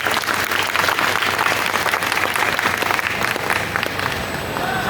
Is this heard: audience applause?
yes